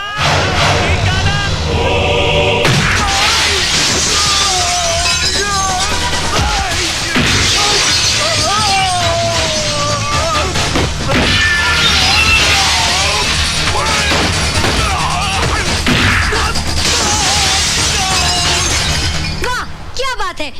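Glass shatters during an action movie fight scene, with crashing and breaking bursts mixed among loud shouting voices, dramatic music and a dense, chaotic soundtrack.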